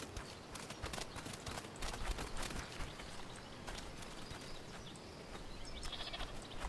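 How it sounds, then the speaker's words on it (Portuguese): A goat bleating in a survival video game, faint and distant beneath steady ambient game noise and clopping, hoof-like steps. "Tem uma cabra."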